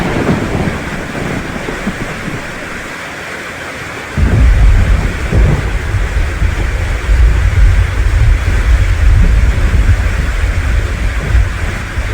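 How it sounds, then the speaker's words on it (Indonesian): Heavy thunder rumbles deep and loud, swelling suddenly after a quieter opening and rolling on continuously as rain sets in, with no voices. "petir dan kilat dengan suara gemuruh mulai menggelegar, menandakan hujan akan segera turun"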